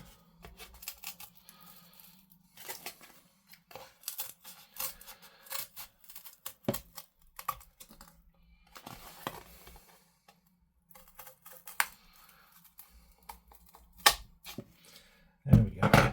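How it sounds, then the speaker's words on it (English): Sandpaper rubbing along the edges of a cut flight stand piece, soft, irregular scratchy strokes in short bursts with pauses, close and quiet, ending in a louder scrape. "I will just sand down the edges to give this a cleaner cut"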